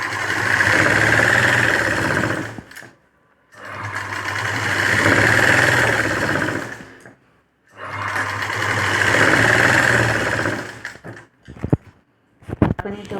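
A sewing machine stitches piping onto a mini paithani saree blouse in three long steady whirring runs, each a few seconds long, separated by short pauses, with a few clicks and knocks at the end.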